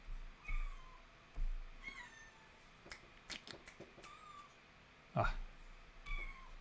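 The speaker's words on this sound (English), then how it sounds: "my cat is meowing at the door, and he's just gonna keep meowing" A house cat meows at a door, several short cries spread across the stretch against a faint, low room background with no talk.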